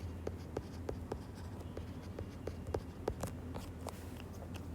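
A pen scratches across paper while an accounts entry for a bank loan is written by hand: a quick, irregular run of short, close strokes and taps in a quiet room.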